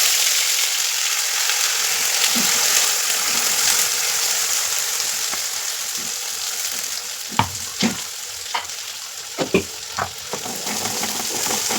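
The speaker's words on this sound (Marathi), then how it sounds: "बघा, तेल गरम झालंय, त्यात मी जिरं टाकलेलं आहे आणि आता जी पेस्ट आपण करून घेतली." Onion-garlic paste fries in hot oil with cumin seeds, giving a steady loud sizzle with sharp crackles and a few stirring scrapes near the end, with no talking.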